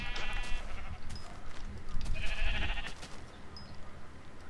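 Sheep bleat in a blocky building video game, two loud wavering calls a second or so apart over steady low background game noise, with no talk.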